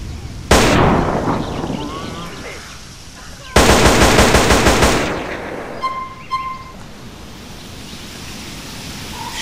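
Bursts of M4 rifle fire in the game GTA San Andreas with a modded weapon pack, a short loud volley then a longer rapid automatic burst that fades into echo, followed by faint clicks and beeps.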